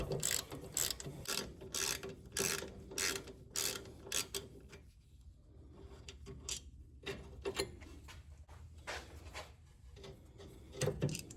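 A ratchet wrench clicks steadily while loosening a brake caliper bolt on a 2008 Range Rover, with rapid close ratcheting bursts, a brief pause, then more clicking.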